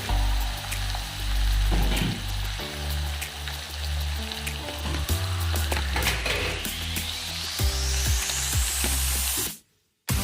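Marinated meat dropped into hot oil with dried red chillies in a wok, hissing and sizzling loudly and steadily up close for about nine seconds before cutting off abruptly.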